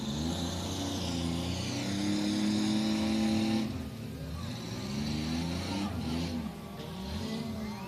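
Race cars roar around a dirt speedway on championship night, engines revving and fading as a few remaining cars lap, with a loud sustained drone that dips and swells as they pass.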